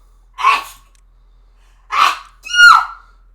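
Three separate sneezes, sharp and close, the last one loudest, with quiet pauses between them.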